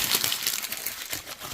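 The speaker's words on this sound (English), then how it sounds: "And I'm just gonna crumple some pages." Paper pages being crumpled by hand, a close, continuous dry crinkling and rustling with no voice over it.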